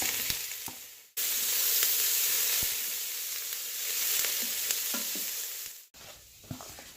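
Onions and peppers sauté in a Ninja Foodi pot with a loud, continuous frying hiss and occasional stirring clicks, cut by two short breaks.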